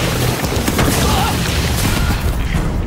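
A cartoon boom from a thrown rock, a dense, loud rumbling crash that fills the whole clip without pause.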